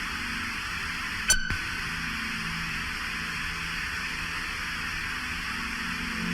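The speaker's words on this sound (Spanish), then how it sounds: "Luego hubo un silencio seguido por estática." Steady hissing radio static runs throughout, even and fairly faint, broken once early on by a brief sharp click.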